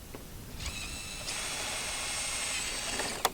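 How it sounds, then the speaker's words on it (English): A power drill bores a hole through a plastic waste bin lid, a sustained high whine starting after a short pause and ending with a sharp click as the bit breaks through. "just drilling our first hole"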